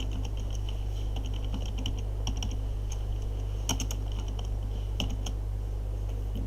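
Fingers type a command on a computer keyboard, giving a quick run of light clicking keystrokes in irregular bursts over a steady low electrical hum.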